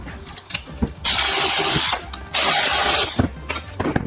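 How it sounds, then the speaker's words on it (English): Bolts being loosened from the frame of a Scott Bonnar 20-inch reel mower deck during teardown, heard as a ratcheting wrench clicking in two sustained bursts with small metallic knocks between them, close by and with no talk. "the last thing is to separate this frame is just these 2 bolts here, which are threaded into the deck. So we'll loosen them off."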